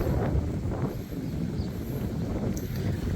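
Cold-season wind blows outdoors in a garden, rumbling steadily against the microphone with a low, continuous gusting roar and faint rustling, with no voices present.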